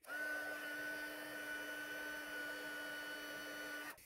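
A heat embossing tool blows and hums continuously while melting black embossing powder on card, a steady whirring tone that starts abruptly, holds for about four seconds, then cuts off, close but fairly quiet.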